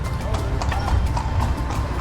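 Hooves of a horse pulling a carriage clip-clop steadily through a busy street in Luxor, Egypt, a quick even rhythm close by over low traffic rumble and faint background voices.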